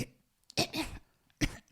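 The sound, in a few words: cough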